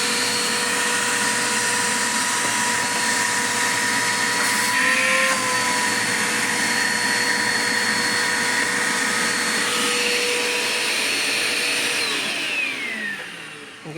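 A Dirt Devil Quick Power vacuum cleaner runs continuously at a steady, loud motor whine with a faint pitch shift midway, winding down slightly at the very end.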